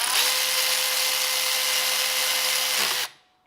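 A Milwaukee FUEL 3/8-inch electric ratchet with a 13mm socket runs down continuously for about three seconds, a loud, steady high-pitched whir that cuts off abruptly.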